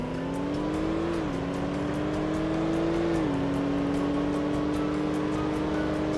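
New engine sound of the Expeditioner vehicle in Roblox Jailbreak, a loud continuous drone holding a steady pitch with two small shifts, like gear changes, and no talking.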